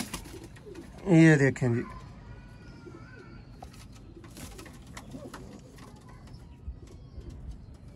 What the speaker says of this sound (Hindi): प्योर साफ आंख के दोस्तों सियालकोटी छत वाले कबूतर।